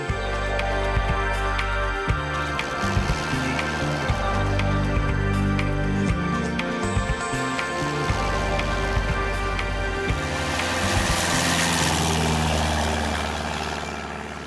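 A Cessna aircraft on its takeoff roll at the Baramati airstrip, with a steady, loud propeller and engine drone, heavy buzzing harmonics and a rushing rise of wind noise toward the end.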